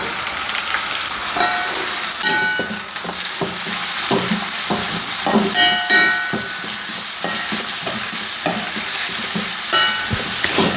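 Bitter gourd slices frying in hot coconut oil, stirred in the pan: a steady, loud sizzle throughout with repeated scraping and clinking strokes of the stirring utensil, no voices.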